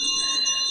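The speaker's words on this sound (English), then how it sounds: "Oh, I'll ring the bell." An old Victorian-style doorbell at a mausoleum rings in an old-time radio drama, a single bright, sustained metallic tone heard close and alone.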